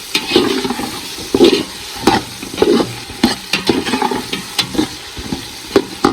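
Finely sliced long strips of potato dropped into hot oil for a matar pulao, sizzling loudly and close up while a spoon scrapes and stirs through the pan in quick irregular strokes.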